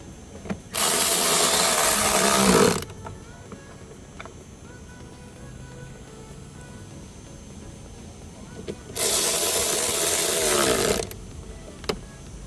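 A ratchet or power tool works dashboard bolts loose on a Toyota Camry, two loud sustained bursts of about two seconds each with quiet workshop room tone between, up close and with no talk.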